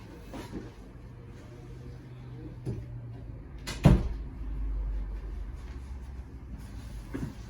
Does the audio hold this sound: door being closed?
yes